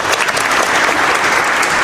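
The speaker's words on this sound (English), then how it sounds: "Let me give him some hand claps." Hearty applause for a podcast guest, Chy the Barber: dense, continuous hand clapping, close and loud, filling the whole moment without any talking.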